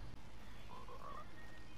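A frog in a video game croaks in a short run of about four low, buzzy calls, quiet against a soft ambient background.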